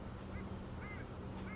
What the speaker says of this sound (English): All winter long, if you want to hear long-tailed ducks, just come sit right here